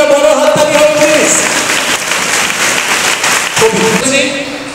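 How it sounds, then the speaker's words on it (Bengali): A crowd at a gathering at a government ITI gives a big round of applause, loud dense clapping close by that runs throughout, with voices and cheering mixed in. "একটা বড় হাততালি হবে প্লিজ।"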